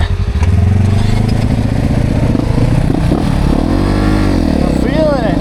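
A Polaris off-road vehicle engine runs close while riding on a steep mountain trail, a loud chugging, revving drone with clattering, and a voice speaking over it.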